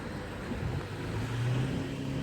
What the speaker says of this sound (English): Kind of more traffic than normal in this intersection.